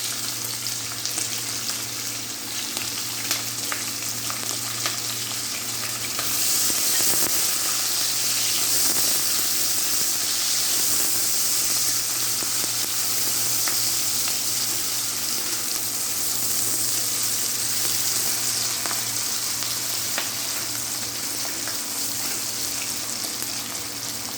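Onions fry with bay leaf and green chili in a pan for mutton biryani, a loud, continuous hiss that swells partway through and holds steady to the end, with no voices.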